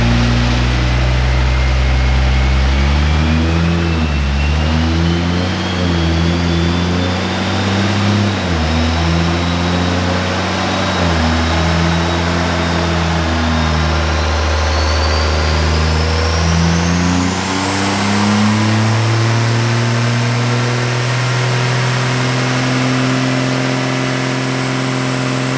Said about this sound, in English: this is the first time they had a diesel truck, a bigger truck on this lift with this much torque and beefiness